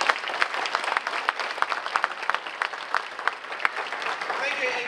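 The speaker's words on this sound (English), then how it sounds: "let's give a round of applause to Susan and the rest of the members of the committee" An audience at a veterans' dinner social in North Reading, Massachusetts applauds the event committee, a steady stretch of many hands clapping with sharp individual claps standing out, moderately loud throughout.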